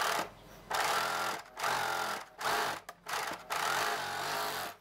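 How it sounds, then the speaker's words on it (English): A sewing machine stitches heavy thread through T-shirt knit fabric in several close, steady whirring runs separated by brief pauses. "I'll show you over the sewing machine in a minute."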